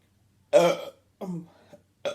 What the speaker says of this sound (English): I'm gonna burp over here because I can smell that White Castles